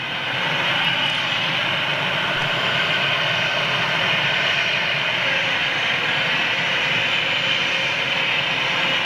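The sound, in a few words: Boeing 757 jet aircraft at Manchester Airport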